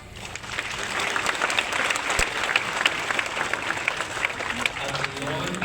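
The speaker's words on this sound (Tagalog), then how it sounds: "tayo ay muling pumalakpak." A church congregation applauds together at an Easter resurrection celebration, a dense, steady wash of clapping that holds evenly for about six seconds.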